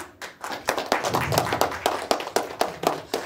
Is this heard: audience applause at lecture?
yes